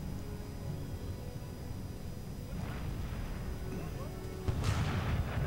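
Cannon and artillery fire in Empire: Total War with an American Civil War mod, a muffled rumbling battle bed with a sharper, louder boom near the end, no one talking.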